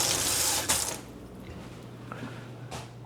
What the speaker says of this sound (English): Rinse off the spoon.